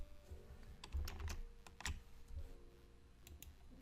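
Keys pressed on a computer keyboard for a Control M shortcut in Jenesis agency software: a handful of sharp, close clicks in short bursts, with quieter tapping between and no talking.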